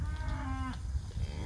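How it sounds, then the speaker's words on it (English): Cows bawling for their calves during a cattle drive in a rested pasture, one loud drawn-out moo that fades, with other cattle lowing nearby over a low outdoor rumble. "the cows are all bawling for their calves"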